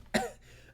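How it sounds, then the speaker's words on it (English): A single sharp cough, close and abrupt, quickly fading into quiet room tone. "I don't know why I just started coughing."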